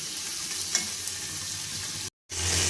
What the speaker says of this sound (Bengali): এবার নুনটা দিয়ে আমি ভালোভাবে পেঁয়াজ, টমেটো আর কাঁচা লঙ্কাটাকে ভেজে নেব।